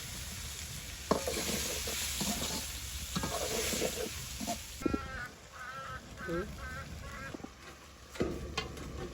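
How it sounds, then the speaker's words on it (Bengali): Icha fish with banana plant sautéing in a kadai in a Hatiya village kitchen: a steady sizzle with repeated stirring scrapes, honking goose-like calls in the background and brief faint voices. "এখন হচ্ছে কড়াইতে দিয়ে দিচ্ছি এগুলো সতলানোর জন্য"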